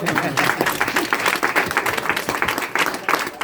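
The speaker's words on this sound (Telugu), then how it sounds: "మీరు చప్పట్లు కొట్టండి, గట్టిగా చెప్పండి." A church congregation claps together during a Christmas-season service. The dense, continuous clapping is fairly loud and close, mixed with voices.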